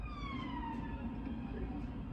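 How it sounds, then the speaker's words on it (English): A police car drives past on a street with its siren blaring, a loud continuous wailing tone sliding downward as the vehicle passes close by. "films a police car driving by with sirens blaring"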